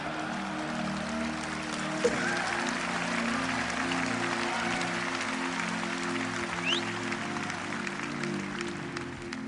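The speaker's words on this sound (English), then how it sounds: "Let me see if you're going to clap." Clapping from a church congregation during a sermon, an even, continuous patter of many hands at moderate distance, steady throughout with a low hum underneath.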